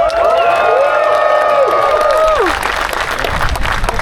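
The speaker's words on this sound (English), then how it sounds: "Make some noise for Charity." A crowd at a Holden car event in the Midwest bursts into applause and cheering, loud and close, with whoops and shouts over steady clapping that thins after a few seconds.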